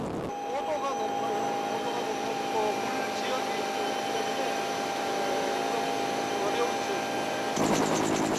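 A firefighting helicopter works over a mountain forest fire driven by strong winds. Its steady, loud drone runs unbroken throughout, with a voice speaking over it.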